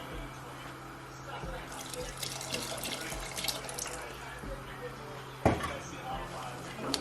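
Water is poured into a cooking pot of simmering Nigerian soup with onions, a steady splashing and trickling stream at moderate distance over quiet kitchen background.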